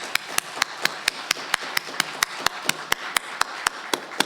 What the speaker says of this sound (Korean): 우리도 힘찬 박수로 영광 돌리겠습니다